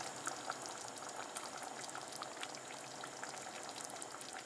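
Meatballs simmering in tomato sauce in a pan bubble steadily, a dense, even stream of small pops and sizzles, close and moderately loud, with no talking.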